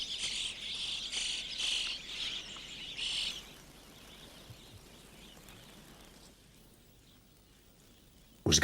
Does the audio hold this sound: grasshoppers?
yes